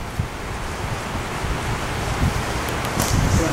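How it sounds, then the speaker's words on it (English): Strong wind blows outdoors beside a parabolic solar oven, a broad steady rushing roar with buffeting gusts and rumbling microphone noise, continuous and fairly loud with no one speaking. "It's so windy today."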